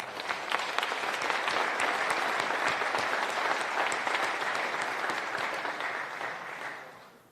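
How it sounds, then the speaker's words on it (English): Sustained applause from an audience at a call center grand opening, dense and steady for about six seconds before tapering off at the end. "Round of applause."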